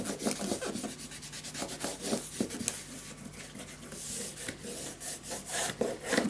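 Paper being burnished down onto a scrapbook mini album page, close continuous rubbing and scraping strokes in a quick rhythm, steady and moderately loud.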